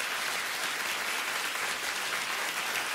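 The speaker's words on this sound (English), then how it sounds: "Keep clapping, everybody." A television talk show studio audience clapping, a thick continuous wash of applause, loud and even from start to finish with no talking.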